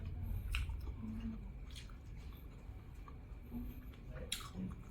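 Close, soft crunching and squishy chewing of fresh, crunchy litob (litub) served raw as kinilaw, with a few brief crisp bites over a low background murmur and no clear talk.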